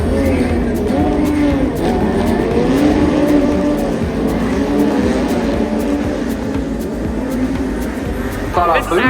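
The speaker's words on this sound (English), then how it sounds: "we're about to watch the Porsche Cup Race, which is 40 GT3 Cup cars racing on the track at the same time" Forty identical Porsche 992 GT3 Cup race cars racing on track, engines roaring loud and continuous with shifting revs and a brief squeal near the end, voices talking over the din.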